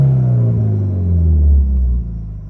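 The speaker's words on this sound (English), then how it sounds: "And now you can rev it up, do whatever you want." A Mitsubishi Evo 8 engine idling with a deep low rumble that rises and falls as the revs swell and then drop back, loud and close with no talk.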